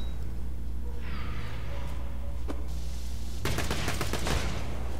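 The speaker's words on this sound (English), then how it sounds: "here's this new Vladoff pistol in action" Rapid automatic bursts from a Vladoff pistol in the shooter game Borderlands The Pre-Sequel, a dense volley of gunfire over a low droning game backdrop, preceded by a few sparse sharp shots.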